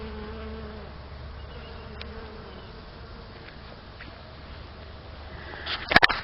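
Honeybees buzz around broccoli plants that have gone to seed and flowered in a garden. The buzzing is a faint, steady background drone. A sharp louder burst near the end stands out over it.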